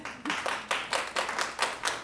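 Scattered audience clapping at a planning commission meeting, a brief run of roughly rhythmic handclaps from a small crowd, moderately faint and heard alone without speech.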